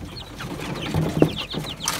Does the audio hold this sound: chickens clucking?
yes